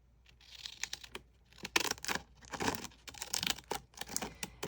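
Scissors that are too dull for fabric snip and slice through paper for a junk journal, producing a series of crisp, irregular cuts and rustles close by, with no talking.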